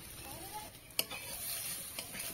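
Green chillies and fried onions sizzle softly in a pot, with a steady faint frying hiss and a few sharp clicks of a spoon against the metal as they are stirred.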